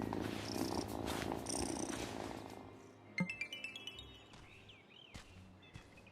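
A cat purrs softly in the farming game Wylde Flowers, a low, steady rumble with gentle pulsing. Game background sounds and a few faint chirps play around it, and no one talks.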